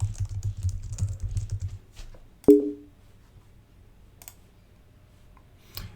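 A burst of rapid keystrokes on a computer keyboard while entering a Git commit message, followed by a single sharp key press and a few sparse, isolated clicks in a quiet room.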